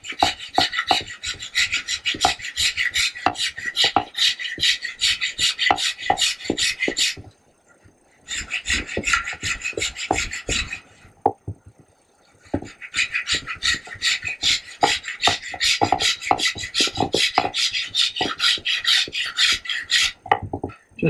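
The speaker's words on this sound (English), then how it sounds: "I'm going to switch to the rasp." A wood rasp files a bow stave for an Ishi-style bow in rapid rhythmic scraping strokes, close and loud, in three bursts separated by short pauses.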